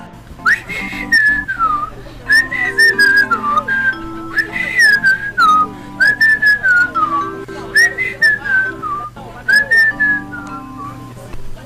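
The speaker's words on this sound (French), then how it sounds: "tu sais que j'aime quand tu siffles" A person whistles a melodic tune in repeated phrases with short pauses, fairly close and clear, over a quiet room background.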